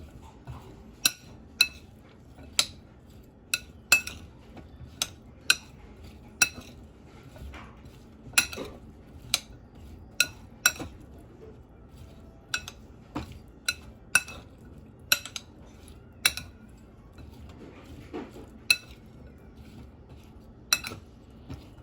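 A utensil clinks against a bowl while potatoes are mixed with lemon juice, a steady series of sharp, close metallic taps roughly every second over a quiet background.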